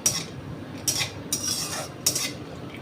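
Laddu ingredients dry-roasting in a pan over medium-low heat, with a few light scraping and clinking stirs of a utensil against the metal, quiet and close, no voices.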